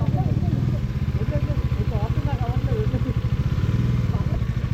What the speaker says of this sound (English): Riding RS V4 for the first time.